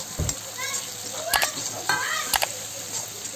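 Masala paste and chopped tomatoes fry in a pan for a chicken curry, with a steady sizzle interrupted by a few sharp clinks of stirring.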